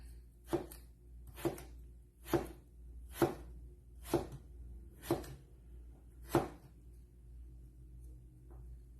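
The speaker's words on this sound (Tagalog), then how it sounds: "Hiwain ko na siya ng pahaba" A knife slices a vegetable lengthwise for french fries, landing seven sharp, evenly spaced thuds on a cutting board about one second apart. Each stroke is close and distinct over a faint low rumble, with no talking.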